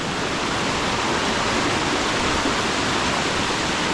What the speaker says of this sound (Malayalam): ചെറിയൊരു വെള്ളച്ചാട്ടം